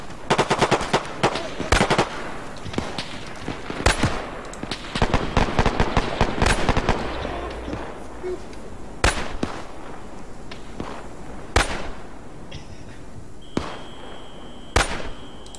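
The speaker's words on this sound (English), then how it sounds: "What are you shooting at, guys?" Gunfire in the video game Arma 3, bursts of rapid automatic fire and single sharp shots crackling in dense clusters, then spacing out into sporadic loud reports.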